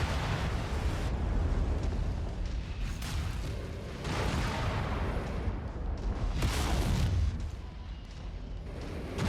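Incoming missile explosions in a MechWarrior video game, a continuous roar of blasts and rumbling booms that keeps going without pause, heavy and close.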